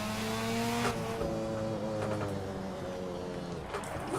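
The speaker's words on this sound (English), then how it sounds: "I like to hear that rev." Engine note from a car in the Assetto Corsa racing game, a steady droning tone that shifts pitch as it revs, sustained and fairly loud throughout with no talk over it.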